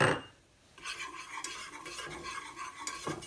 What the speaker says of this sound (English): So once your butter has melted, then just sprinkle in your flour.